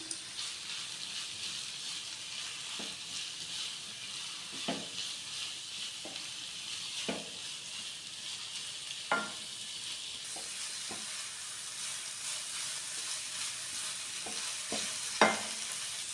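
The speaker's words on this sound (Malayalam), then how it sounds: "ഇതെല്ലാം കൂടി നന്നായി മിക്സ് ചെയ്ത് കൊടുക്കാം" Onion, carrot and cabbage stir-fry in a pan for veg noodles, giving a steady hiss of sizzling with occasional sharp scrapes and clinks as a spatula tosses the vegetables, quiet and continuous.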